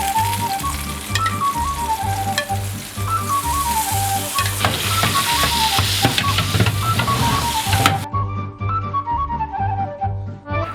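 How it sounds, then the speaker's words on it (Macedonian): Carp basted with oil and wine sizzles and bubbles loudly in a pan, a dense continuous frying hiss with a rhythmic low mechanical pulse underneath. "Вака, го поливаме крапот на секои 10 минути со маслото и со виното."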